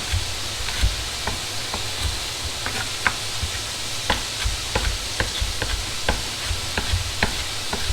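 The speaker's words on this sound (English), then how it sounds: "Some of these bigger pieces I'm going to chop down a little bit more" A knife chops larger carrot pieces for an Irish beef stew on a cutting board, with crisp, irregular taps under a steady background sizzle of frying.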